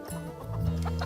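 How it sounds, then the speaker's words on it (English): Chickens clucking in a backyard shared with goats, a short run of close, moderately loud clucks and harmonic calls that grow slightly busier toward the end. "having goats and chickens in our backyard"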